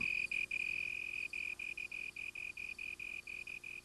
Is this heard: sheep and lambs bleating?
no